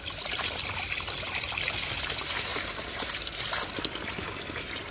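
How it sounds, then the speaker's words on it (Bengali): Harvested onions from an aquaponics bed are rinsed under running water, a steady close trickle and splash of liquid that continues unbroken with no voices. "এগুলোকে আমরা ধুয়ে নেব, ধুয়ে পরিষ্কার করে দেখব"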